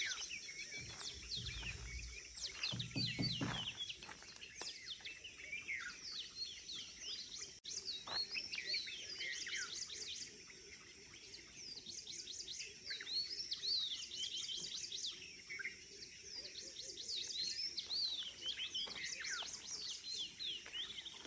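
Birds chirp and whistle in quiet roadside surroundings, with repeated bright, clear call phrases over a soft, steady background hush and a brief low rumble near the start.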